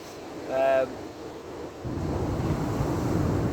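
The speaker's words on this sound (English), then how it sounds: "So we're fishing the rising tide, a bit of a wash on." Surf washes onto Kilpatrick beach on a rising tide; after a brief tonal call near the start, a broad rushing wash swells in and holds steady and moderately loud.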